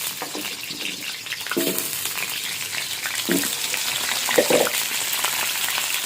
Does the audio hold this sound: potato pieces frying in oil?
yes